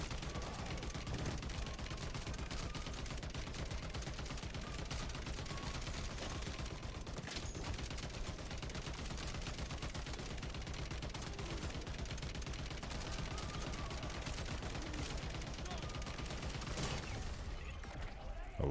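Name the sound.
gunfire from a gun in the video game MW3 Zombies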